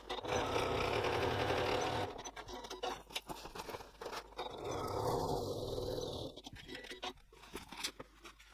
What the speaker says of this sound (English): Now just for added strength you can do a second line of stitching just on the seam allowance as well.